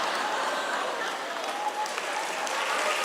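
Conference audience applauding, a steady dense wash of many hands clapping that holds evenly for about three seconds, with faint voices mixed in.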